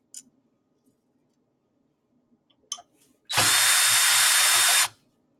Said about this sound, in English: we're going to remove these 9 screws.